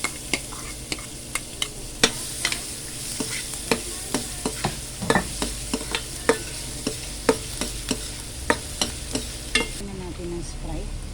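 Garlic sautéing in butter for buttered shrimp: a soft, steady sizzle under frequent sharp clicks and scrapes of a utensil stirring in the pan.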